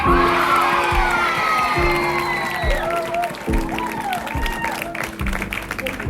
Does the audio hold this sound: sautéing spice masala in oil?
no